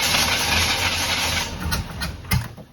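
Old Chevy square body barn-find truck engine with a flooded carburetor sputtering and trying to run, a loud rough idle close by that falters and surges near the end, no talking.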